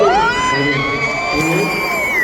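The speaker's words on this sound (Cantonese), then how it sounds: "我哋嘅導演鄭寶瑞導演，俾掌聲" A concert crowd cheers and applauds for the director, a dense roar of shouts and whoops with high-pitched cries rising over it. Voices carry through the noise.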